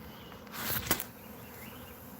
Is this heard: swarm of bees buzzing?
yes